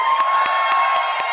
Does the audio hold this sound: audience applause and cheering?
yes